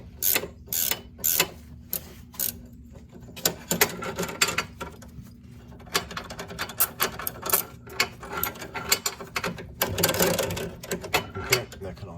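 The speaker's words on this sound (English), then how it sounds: "I've got a ratcheting 17mm wrench, and we're just going to wind that out" A ratcheting 17mm wrench clicks in quick bursts while winding out a bolt on an automatic-transmission Corolla/Matrix/Vibe's driver-side control arm, with rapid pawl ticking, pauses and mechanical handling noise close by.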